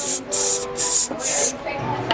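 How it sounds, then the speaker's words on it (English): A brand-new paint sprayer hisses in four loud, evenly spaced bursts while painting a BMW 335i E92 coupe, each spray cut off cleanly, with voices faint between them. "Sprayer is intact, brand new sprayer."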